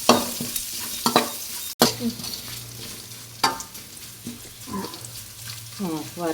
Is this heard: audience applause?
no